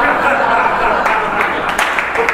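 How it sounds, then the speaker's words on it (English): A small audience at a comedy club gives brief, scattered applause that rises and falls in short bursts under a talking voice. "I appreciate that little applause"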